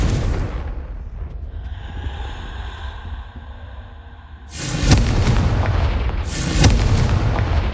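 Confringo blasting spells going off in Hogwarts Legacy, a humming magical charge-up followed by two loud, close explosive bursts with crackling tails.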